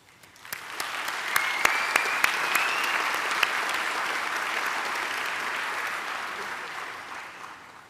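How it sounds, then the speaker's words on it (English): A large audience at a Nelson Mandela University autumn graduation ceremony in Gqeberha applauds the science graduates, a dense, sustained wave of clapping that swells quickly, holds steady for several seconds with a few sharper claps standing out, then slowly fades. "Please join me in applauding our graduates."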